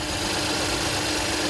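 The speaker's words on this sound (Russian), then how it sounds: "И вот здесь мотор работает как нужно, тихо." A Lexus car engine with a rebuilt motor idles quietly and steadily, a smooth continuous mechanical hum close by with no talk over it.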